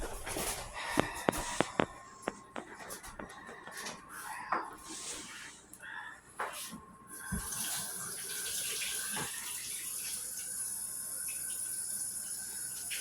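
Water runs from a tap to rinse a rabbit carcass, starting with scattered clinks and splashes, then settling into a steady rushing stream, moderately close and fairly faint.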